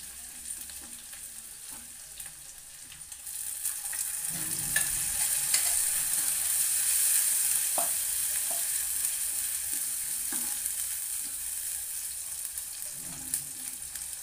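Onion and fresh coconut chutney is stirred into a Malvani-style curry simmering in a pan, bringing a steady hiss that swells after a quieter start, with occasional soft scrapes and clinks.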